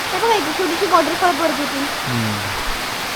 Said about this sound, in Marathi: धो धो पाऊस पडायला लागला